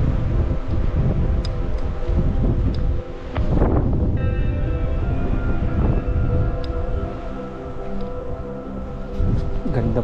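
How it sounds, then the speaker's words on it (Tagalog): Strong, cold wind roars steadily across a mountain view deck on a rough road route in Abra, buffeting the microphone with a dense, rumbling rush that continues throughout, with faint voices underneath. "sobrang lakas ng hangin na malamig"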